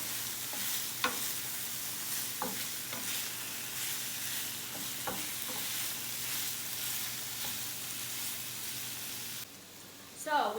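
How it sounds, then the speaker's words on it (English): Vegetables and tomatoes sautéing in a pan over medium-high heat, a steady close sizzle with scattered stirring clicks and scrapes, ending in a brief clatter. "So we got all our vegetables now sauteing."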